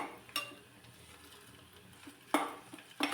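Thinly sliced onion fries with curry leaves in a pan, giving a steady low sizzle with a few sharp scrapes of a spoon stirring against the metal, close and unvoiced.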